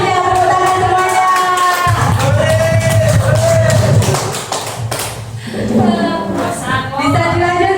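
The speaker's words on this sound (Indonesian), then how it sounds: "tepuk tangan semuanya" A group claps together during a school teacher's positive-culture classroom activity, a steady patter of hands that runs under voices and tonal vocal sounds before easing off and returning.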